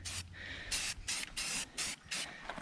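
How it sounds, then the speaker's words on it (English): Rust-Oleum spray paint hissing onto raw outdoor metal in several short bursts, each about half a second, close and fairly loud with brief pauses between. "I'd suggest giving her a quick coat of paint because this metal is raw"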